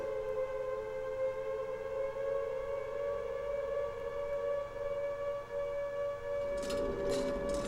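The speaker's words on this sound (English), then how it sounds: "The sirens." A steady civil-defense siren wails continuously in Silent Hill 2 on PS2, loud and sustained with a mournful drawn-out tone, joined near the end by brief higher bursts.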